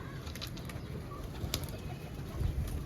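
Breeder pigeons take off in a flurry of wing flaps, several soft bursts of flapping close by over an outdoor hum.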